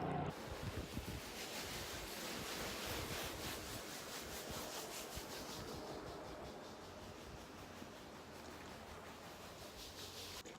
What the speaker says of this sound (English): I'm just going to use the garden hose, and we'll rinse it gently